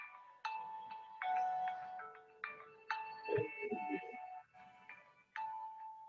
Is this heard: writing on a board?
no